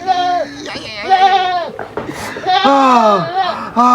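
A goat bleats in repeated wavering cries, loud and close, tangled with people's voices and some laughter in a comic farmyard scene.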